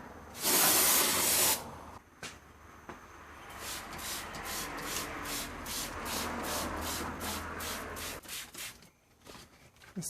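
A parts washer sprays cleaning fluid while a BMW M52/M54 engine part is cleaned: a loud hiss bursts at the start, then a steady washing spray with a rapid pulsing rhythm runs for most of the clip before easing off.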